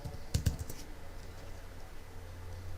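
A few quick keystrokes on a computer keyboard, close and light, followed by a quiet room hum.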